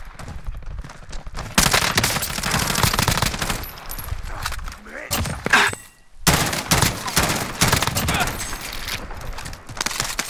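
Video game gunfire in dense, rapid automatic bursts that go on almost without a break, with a short lull in the middle. Bursts of chatter from the players sit faintly under the shooting.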